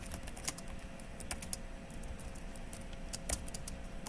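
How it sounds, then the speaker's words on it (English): Soft, quick keystrokes on a computer keyboard during beginner Python coding, faint irregular clicks with a few sharper taps, no talk over them. "Typing is hard."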